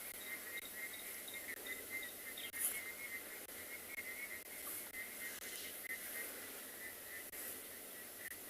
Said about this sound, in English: Can you hear the frogs? They've started already.